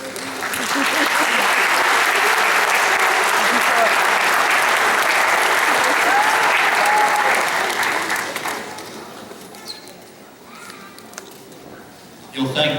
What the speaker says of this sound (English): and give them a round of applause, and tell them thanks.